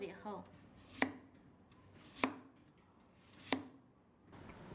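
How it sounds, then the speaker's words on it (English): Skinned potatoes are sliced on a cutting board, three sharp knife chops spaced about a second apart, each a crisp close thunk over a quiet background. "Get yourself some potatoes, skin them alive, and slice those into slices."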